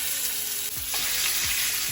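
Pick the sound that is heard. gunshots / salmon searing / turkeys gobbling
salmon searing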